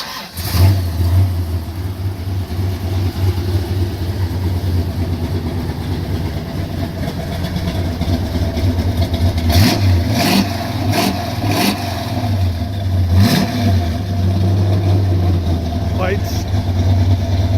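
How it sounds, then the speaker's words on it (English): A car's engine runs outdoors after a cold start, a loud steady low idle close by with a few brief revs and clunks, while people talk over it. "Sam, we just pushed this outside so you can hear a true cold start."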